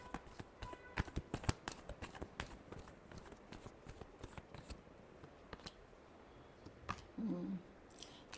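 Tarot cards being shuffled by hand, a quiet series of crisp riffling snaps and flicks arriving in quick irregular bursts, followed by a brief soft rustle near the end.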